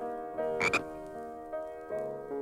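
A frog gives a couple of deep, resonant croaks, the first louder with a rough burst, then a softer pair, alone with no talking.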